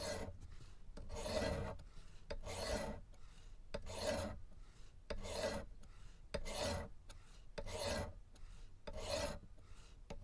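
Kershaw Bracket knife blade drawn across a Worksharp Pro sharpener in eight steady, evenly spaced rasping strokes, each about a second long, close and fairly loud with no talking.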